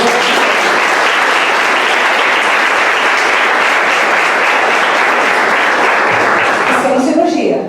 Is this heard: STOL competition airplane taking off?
no